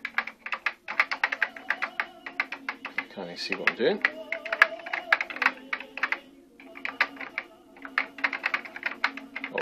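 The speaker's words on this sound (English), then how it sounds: "All keyboard operated." Rapid, irregular clacking of keys on a Commodore VIC 20 computer keyboard during a whack-a-mole game, with electronic game beeps and someone speaking over the tapping.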